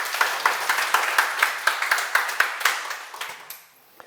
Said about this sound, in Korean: 너무 좋은 질문인데 박수 한번 치세요.